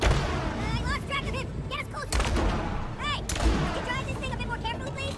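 Gunfire from a ship's weapon in the co-op video game It Takes Two, rapid bursts of shots and thuds layered with electronic game effects, while people talk over it throughout.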